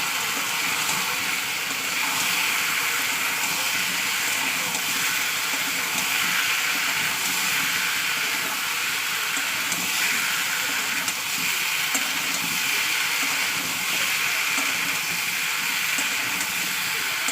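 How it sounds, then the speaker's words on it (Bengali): Spices frying in hot oil in a home kitchen pan, a continuous loud sizzle and hiss that holds steady throughout. "ভালো করে তেলের সঙ্গে মশলার সঙ্গে কষিয়ে ভালো করে কষিয়ে নিতে হবে"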